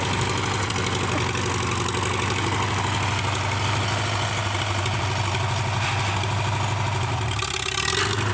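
Farmall B tractor engine running at a steady, close, low-pitched idle that chugs evenly throughout, with a slight change near the end and no talking.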